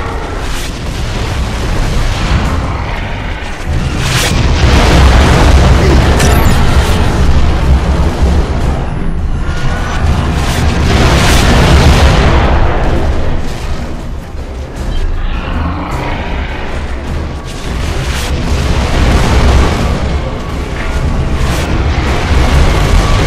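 Mortar shells pound the battlefield in Gears of War 3, Act 1 Chapter 6, as loud rolling booms and blasts layered over constant rumbling combat noise, swelling and easing across the stretch.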